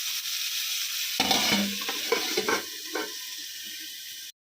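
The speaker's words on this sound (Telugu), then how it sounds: "ఇలా మూత పెట్టి మీడియం ఫ్లేమ్ మీద వేయించుకోవాలి." Ivy gourd seasoned with turmeric and salt fries in a covered pan over a medium flame, giving a steady close sizzle with a few stirring scrapes and clinks partway through, and no voices.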